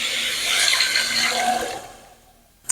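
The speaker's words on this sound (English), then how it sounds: "So I'm going to add my broth." Broth is poured into a pot of hamburger stew soup, making a close, steady splashing pour that lasts under two seconds before fading, followed by a small knock.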